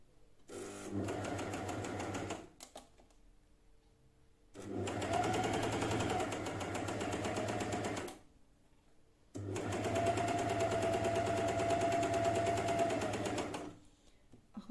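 An overlock serger sewing machine stitches chiffon in three long motor runs separated by short pauses, its steady whirring hum fairly loud and close with no voices.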